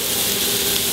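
Finely chopped shallots sweat in a pan in steady, close-up sizzling and hissing, with no talking over it.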